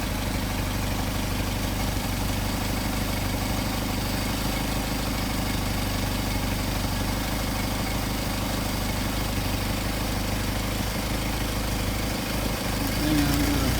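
A Mercedes 190SL engine with Solex carburetors idles at a steady, low, even rumble that stays at the same level throughout, close to the microphone.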